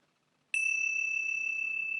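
A meditation bell is struck once after a brief silence, giving a sharp attack and then a clear, bright tone that rings on steadily with a lingering overtone and barely decays.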